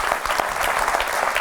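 A live studio audience gives a burst of applause, many hands clapping densely and steadily at close range with no break.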